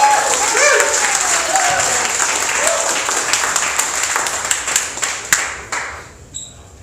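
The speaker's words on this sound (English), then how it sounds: "Please give a round of applause for Pixery." A demo-day crowd at the MOX Taipei accelerator event claps for the Pixery team, loud dense applause that thins into scattered individual claps and fades out near the end.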